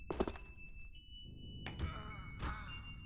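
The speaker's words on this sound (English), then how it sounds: "your grenade colliding with the elevator" A grenade in a multiplayer shooter knocks against an elevator: a sharp metallic clank up front, then two more hollow thunks with ringing tails, fairly faint against a quiet background.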